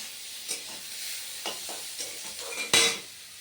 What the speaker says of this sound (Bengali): এখানে পেঁয়াজ দিয়ে দিয়েছি আর এখানে হচ্ছে মশলা সব বাটা রয়েছে আদা রসুন লঙ্কা